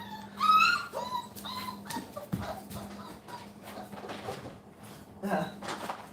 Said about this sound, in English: If you can hear the whining in the background,